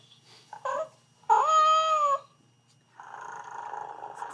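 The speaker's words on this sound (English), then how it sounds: "This is the one that purrs." A toy cat makes a short electronic meow-like call, then a steady buzzing purr starts and continues, close and fairly quiet.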